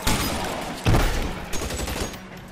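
Gunfire from the remastered L.A. Noire video game: a loud, close volley of overlapping shots that bursts in and keeps rattling in dense clusters for a couple of seconds.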